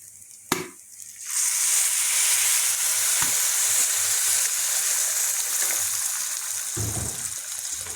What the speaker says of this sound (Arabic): هننزل بقى بمية مغلية عشان الرز ما يعجنش منك، لازم تنزلي بمية مغلية